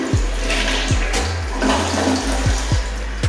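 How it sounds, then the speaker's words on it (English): An old toilet in a Cold Stone Creamery restroom flushes with a loud, steady rush of water and deep gurgling that lasts throughout, close to the listener. "Let's watch the flush."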